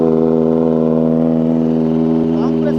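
Kawasaki ZX-4R motorcycle engine and exhaust hold a steady, loud, close drone while riding, with a constant pitch and a slight rise near the end.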